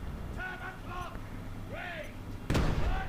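A single sharp, booming tank cannon shot from War Thunder Mobile hits a T-34 late in the clip, cutting through a low engine rumble and wavering tonal game sounds that fill the first part.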